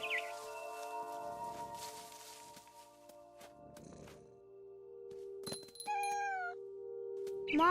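A single drawn-out cat meow in What Remains of Edith Finch rises near the end, close and fairly clear, over a soft sustained musical drone with scattered small knocks.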